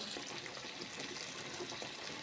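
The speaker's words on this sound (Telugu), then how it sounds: "ఇప్పుడు కొంచెం వాటర్ పోద్దామండి" Water runs steadily into a pan while cooking brinjal curry, a soft, continuous splashing hiss, close by, no talking.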